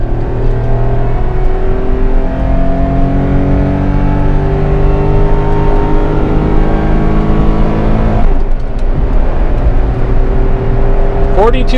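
A Honda Street Acty kei van accelerating flat out from a standstill, its small engine droning and climbing in pitch through the gears, loud and close from inside the cab, with a shift break near the end.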